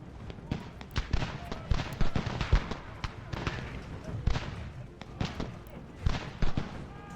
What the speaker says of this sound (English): I just want to get the artillery involved here.